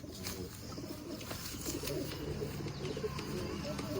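Caged pigeons, both adult and young birds, coo repeatedly at close range in a soft, continuous, throaty murmur over a steady low background.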